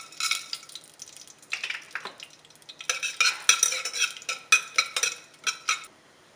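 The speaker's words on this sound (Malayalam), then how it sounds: "ഇനി അതിലേക്ക് ഹോൾ സ്പൈസസ് ചേർത്ത് കൊടുക്കാം." Whole spices fry in ghee inside a pressure cooker while a spoon scrapes and stirs, producing bursts of crackly sizzle and metallic scraping in an irregular rhythm, close and fairly loud.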